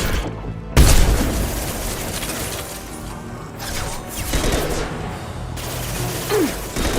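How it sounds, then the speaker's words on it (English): Concussive shot ability firing in the Mass Effect 2 video game: a heavy, abrupt boom near the start, then rolling combat rumble with further thuds and debris-like crashes, loud and close. "Concussive shot ready."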